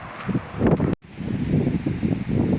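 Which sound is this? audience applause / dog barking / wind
wind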